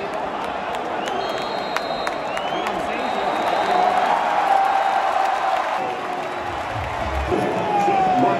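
A large stadium crowd at SoFi Stadium roars and cheers after the Barcelona v. Arsenal match, a dense, sustained wash of shouting and applause heard from within the stands.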